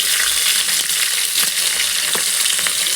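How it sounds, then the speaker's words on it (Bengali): Vegetables sizzle and crackle loudly in hot oil while being fried for a Bengali chhana kalia, a continuous close hiss with occasional stirring scrapes. "আর এই যে সবজিগুলো আছে সেগুলোও ভেজে নেবে"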